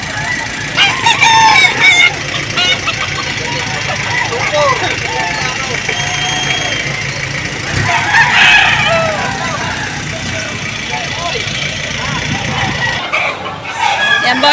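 Roosters crow and chickens cluck at a busy poultry market in Padre Garcia, several birds calling near and far over engine idling and people talking.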